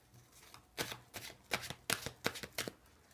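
Tarot cards shuffled by hand in a quiet room, a run of crisp riffling bursts and soft slaps at an uneven rhythm, close and fairly faint, with no talk.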